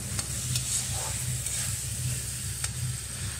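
Pumpkin curry (kaddu ki sabji) is stirred in a pan after salt is added, producing a steady close sizzle with occasional sharp spoon clicks against the pan.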